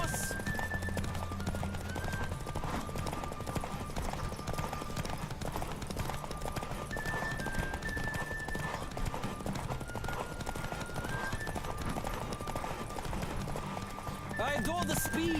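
Horse hooves clip-clop at a fast, steady gallop in The Witcher 3: Wild Hunt, running continuously under game music and spoken dialogue.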